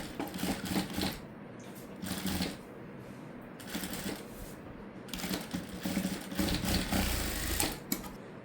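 A sewing machine stitches a cutwork blouse in rapid mechanical bursts, with runs of fast clattering separated by short pauses, close and fairly quiet, without any talk.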